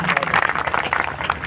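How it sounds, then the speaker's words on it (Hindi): An audience claps at a Gondi cultural program, dense rapid applause under a speaker's voice. "इसलिए इनके लिए जोरदार तालियां होनी चाहिए"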